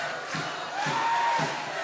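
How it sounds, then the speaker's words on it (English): Milton Keynes supporters at an ice hockey cup final against Sheffield, a broad roar of crowd noise with rhythmic clapping rising in the arena, distant and steady. "the Milton Keynes fans clapping their team right till the end"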